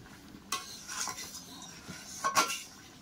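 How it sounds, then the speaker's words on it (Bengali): Fried eggs in a simmering curry gently turned with a spatula: a few soft metallic scrapes and clinks against the pan over a low, quiet bubbling, close by and with no talking. "ডিম দেওয়ার পরে খুন্তি দিয়ে আলতোভাবে নেড়ে দেব"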